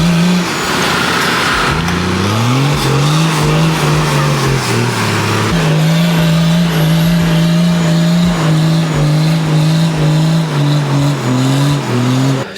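Four-wheel drives bogged on a soft sand track rev hard and loud for the whole stretch, engine pitch repeatedly climbing and dropping as wheels spin, close to the listener.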